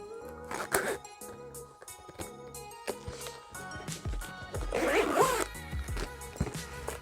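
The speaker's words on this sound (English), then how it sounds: "Close the zipper, see if that shuts." A zipper is drawn shut on a Mumba deluxe carry case for a Nintendo Switch, several quick rasping pulls close to the microphone, heard over soft background music.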